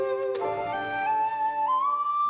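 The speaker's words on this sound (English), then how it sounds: "That's my alarm." An alarm sounds in a room where scrapbook paper and craft supplies are being unpacked, a steady electronic tone with stacked harmonics that shifts pitch in steps, rising slightly over about two seconds, loud and alone with no talk.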